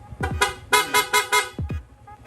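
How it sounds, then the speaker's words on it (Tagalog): A motorcycle horn, on a Yamaha Sniper 155, honks in a rapid series of short bursts, about eight beeps in quick succession, loud and close. "Long press lang po natin itong horn switch, yung busina ni sir, magsusunod-sunod na."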